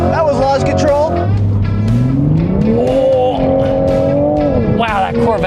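Chevy Corvette Stingray and Toyota GR Supra launching side by side at the start of a drag race, engines rising in pitch together as they accelerate hard, loud and close, with a voice talking excitedly over the run.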